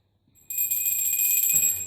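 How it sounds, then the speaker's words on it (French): A small bell, marked with a novelty inscription, is rung once and keeps ringing for over a second as a bright, sustained metallic tone. It sounds close and is heard alone, with no talk. "C'est une cloche"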